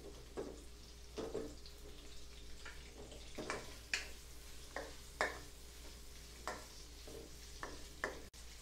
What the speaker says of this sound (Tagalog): Igisa na rin natin yan para lumasa.